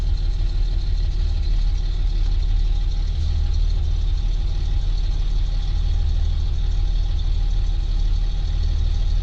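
Steady, close idle of a six-cylinder engine in a 1962-1967 Chevy II Nova just after an oil change, an even low rumble with a faint ticking running unbroken throughout, no voices.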